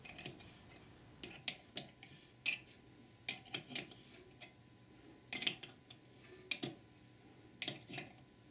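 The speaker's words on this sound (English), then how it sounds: "a half-inch wrench is used to tighten two bolts, which will clamp a collar to the support spline." A half-inch wrench tightens two bolts clamping a collar to the support spline of a tool on a Ford E4OD/4R100 transmission, giving bursts of crisp metallic clicks and ticks at close range.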